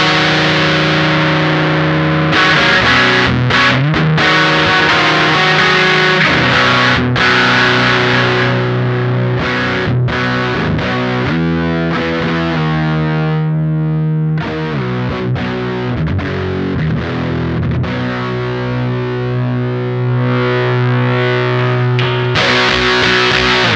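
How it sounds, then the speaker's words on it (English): An O.C.E. Lineman distortion pedal with its tone control turned up plays a loud, continuous run of distorted guitar chords and sustained notes, its high end rolled off for a darker sound, with no talking. "as we turn the tone control up, we start to roll off high end to get a darker and darker sound"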